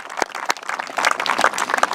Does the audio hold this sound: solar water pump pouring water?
no